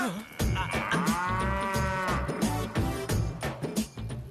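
A long, deep lowing call from a buffalo rises and falls, with more bellowing and animal grunts from a spooked buffalo herd around it, close and fairly loud.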